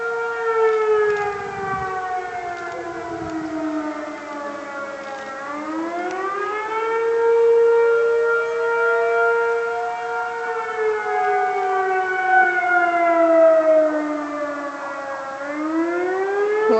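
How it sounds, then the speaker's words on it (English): A Federal Signal 2001 civil defense siren wails across town, its tone rising and falling in long sweeping cycles. It sounds steady and fairly loud, with no voices present. "I can hear the federal signal 2001. And the siren's coming from that way"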